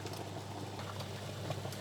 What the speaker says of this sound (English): So my water is boiling